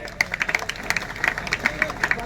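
A crowd at a rural kusti wrestling match at the Patas ground in Pune district claps in quick, uneven bursts of moderate loudness, mixed with nearby voices.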